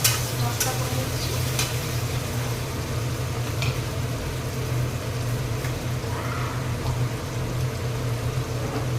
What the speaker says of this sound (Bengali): পেঁয়াজটা যতক্ষণ ভাজবে